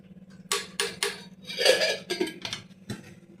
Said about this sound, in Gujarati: 1 ચમચી તેલ નાખી દે, હલાવી નાખીએ.